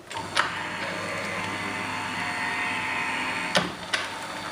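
A Sizzix Vagabond 2 die cutting machine runs a floral coverplate die sandwich through for dry embossing, giving a steady continuous motorized hum with a couple of sharp clicks near the start and end.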